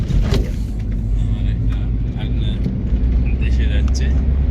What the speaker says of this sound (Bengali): গাড়িতে উঠে পড়েছি